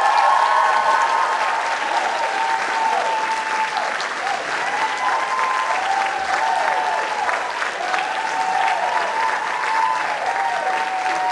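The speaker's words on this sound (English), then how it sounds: "So we'd like to give President Broadhead a big round of applause" An audience at an awards event gives President Broadhead a big, sustained round of applause, loud and even throughout, with cheering voices rising and falling beneath the clapping.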